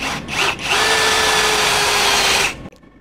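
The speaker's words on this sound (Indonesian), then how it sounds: "Mata bor besi mode drilling." A DongCheng DCJZ1250i 12V cordless brushless impact drill with a metal bit, set to drilling mode at speed 2, spins up with a few brief bursts and then runs with a loud, steady whine for about two seconds before stopping abruptly.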